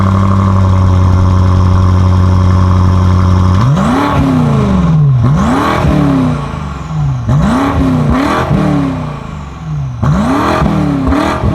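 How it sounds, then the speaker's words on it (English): A BMW M5 Competition's V8 holds a steady high idle, then revs repeatedly in loud, close bursts, each climbing sharply and falling back with a throaty, slightly synthetic snarl, about five blips in a row. "In this angry, robotic, throaty V8 way, I absolutely love it"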